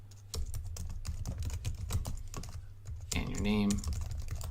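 Fast typing on a computer keyboard while entering an email address for a hosting signup, steady close clatter running throughout beneath a man's speech.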